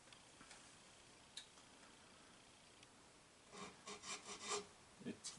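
A hand file scrapes along the sharp fret ends of a guitar. Faint, quiet background hiss is broken by a single tick, then several distinct rasping strokes in a short burst toward the end.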